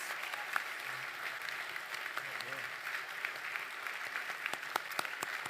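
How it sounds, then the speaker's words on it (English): A breakfast audience gives enthusiastic applause, a dense steady wash of clapping from a large room with a few sharp claps standing out near the end. "thank these incredible supporters of Cosmo with enthusiastic applause"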